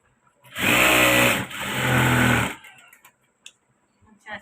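Motorized sewing machine stitching fabric in a loud continuous run of about two seconds, a brief pause, then another short burst, with faint handling noises afterward.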